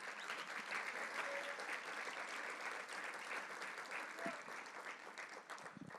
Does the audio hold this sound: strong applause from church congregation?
yes